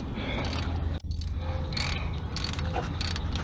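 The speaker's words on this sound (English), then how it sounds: "He's taking that bolt out." A hand ratchet working on a bolt on a Chevy Malibu, steady close clicking and mechanical grinding with a brief pause, no talking.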